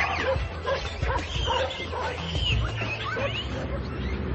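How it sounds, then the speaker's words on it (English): Several feral dogs bark, yip and whimper in a busy, overlapping chorus, close by and fairly loud, with no talking. "They share the site with Taif's band of feral dogs."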